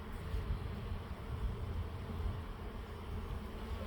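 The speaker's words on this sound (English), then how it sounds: "there's quite a bit of bees in there" Honey bees hum around a hive in a close, continuous drone, a low buzzing swarm that holds steady for a few seconds with no voices.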